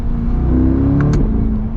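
A Chevrolet C8 Corvette Convertible pulls away under light acceleration, its exhaust a steady, loud droning hum from inside the car that rises in pitch, with a brief whine and shift sounds from the transmission near the end.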